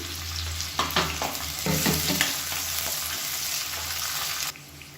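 Onions and curry leaves sizzle in oil in a pan for a kurma, a steady frying hiss broken by several scraping stirs of a spoon, then the sound cuts off near the end.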